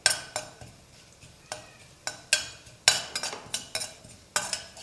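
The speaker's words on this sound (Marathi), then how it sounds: "आता या तेलामध्ये आपण फोडणी करूया तर तेल गरमच आहे यामध्ये घालूया जिरं" Cumin seeds go into hot oil for a tempering. A soft crackle runs beneath a steady series of sharp spatula scrapes and taps against the pan, close and fairly loud.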